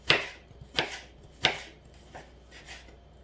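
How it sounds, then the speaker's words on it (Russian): A knife cutting plums into wedges on a board, with three sharp, close chops at even intervals followed by two softer ones, no voices. "Нарезаем дольками."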